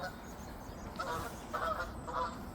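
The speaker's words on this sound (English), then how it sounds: "There's some geese coming over now." Several geese honk in short bursts as they pass overhead, fairly distant, over a quiet outdoor background.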